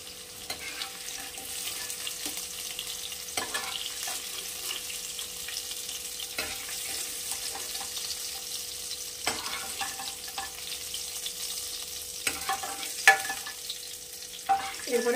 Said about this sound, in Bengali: এরপর এই তেলেই আমি ভেজে নেব এঁচোড়গুলো।